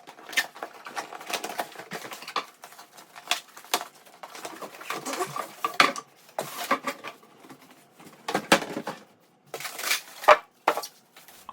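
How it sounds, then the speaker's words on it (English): Packaging handled while unboxing a Eufy S1 Pro robot vacuum and mop: intermittent rustles, taps and crinkles of cardboard and plastic, close and fairly quiet, with pauses between bursts. "Now we'll unbox the robot itself."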